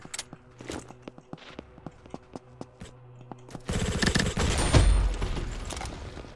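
Gunfire in a PC video game breaks out as a loud, dense burst of rapid shots in the second half, following a stretch of quieter clicking and footstep-like taps.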